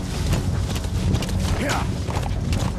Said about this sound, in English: Man, you just got hit by a horse.